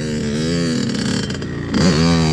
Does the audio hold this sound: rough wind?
no